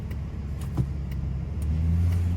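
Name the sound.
truck engine starting up and running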